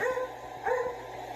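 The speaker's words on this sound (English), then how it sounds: "So that dog you're hearing is the same dog you hear on the fucking the 1112 camera." A single dog barks twice in quick succession, moderately distant, over a steady hum.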